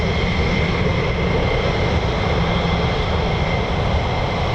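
F-15 and F-35 fighter jets taxi at an air base, their engines giving a loud, steady roar that holds without a break and covers every other sound.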